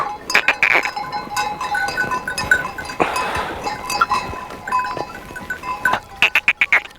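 Goats belonging to a goatherd in Fornillos, Zamora, bleat repeatedly at close range, with cries clustered at the start and a quick run of calls near the end, over faint clinking and outdoor farm ambience.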